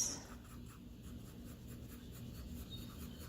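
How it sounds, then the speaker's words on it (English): A pencil cross-hatches on paper in steady, soft scratching strokes, quiet and close, with no talk. "Okay, cross-hatching looks like this."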